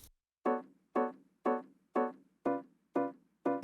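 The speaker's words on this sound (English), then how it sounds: "some chord stabs using piano," Piano chord stabs in an Asian bedroom R&B arrangement strike seven times in an even rhythm, each short, bright chord decaying quickly into silence before the next.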